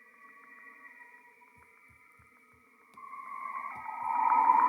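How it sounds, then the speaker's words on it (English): Eerie, otherworldly electromagnetic tones recorded as radio emissions from Saturn, steady sustained pitches with faint pulsing clicks, swelling louder and brighter over the last second or two, with no voices. "Those are the eerie sounds of Saturn."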